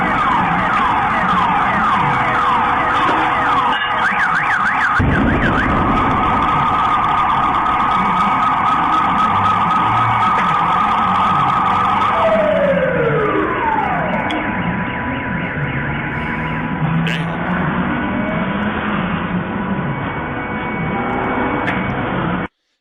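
Several city alarm sirens wail together, including an emergency warning system tone and a submarine dive alarm, loud and continuous with overlapping steady tones and a falling sweep midway, and no voices.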